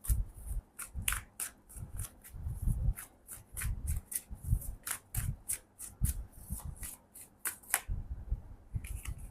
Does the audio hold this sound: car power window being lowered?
no